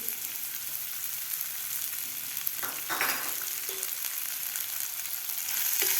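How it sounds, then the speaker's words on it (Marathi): Sprouted moth beans (matki) hit a kadai of hot oil, giving a steady, broad sizzle with a few brief clinks partway through and the frying hiss swelling slightly toward the end, with no talking. "तेल आपलं गरम झालेलं आहे तर यामध्ये घालायची आपल्याला मोड आलेली मटकी"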